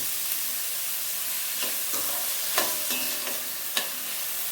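Onions sizzling in a pan for rajma masala, a steady hiss of frying broken by occasional scrapes and taps of a spoon stirring, close and alone.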